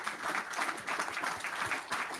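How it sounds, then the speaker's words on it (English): An audience claps for the panelists at a business event, a short burst of steady, moderately loud applause from a crowd lasting a couple of seconds. "Big round of applause for our panelists."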